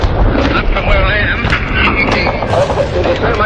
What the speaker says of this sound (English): Although you can hear machine guns firing from the Hedgerow